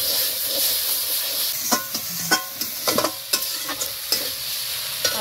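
Onion and spices fry in a pan, with a steady sizzle and hiss broken by short scraping knocks of stirring from about halfway on; close by, with no talk.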